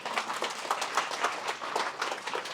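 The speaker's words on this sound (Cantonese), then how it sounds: "首先咧就俾個掌聲俾 Tiffany 先" Steady applause from an audience at a book launch event in a hall, a dense, even patter of many hands clapping for a few seconds without talk.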